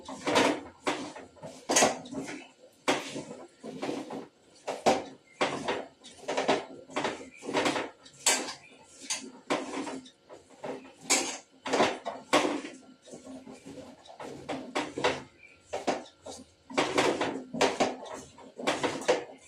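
Chopped vegetables being mixed by hand with spices, oil and salt in a bowl, giving quiet repeated clicks and scrapes against the dish in an uneven rhythm, with no talk.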